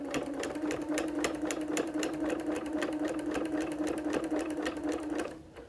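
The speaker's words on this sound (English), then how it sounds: "Go ahead and give a couple stitches. Go ahead and backstitch." A sewing machine runs close by, stitching and backstitching fabric for a T-shirt rag quilt. Its needle taps out a fast, even mechanical rhythm over a steady motor hum, then it winds down at the end.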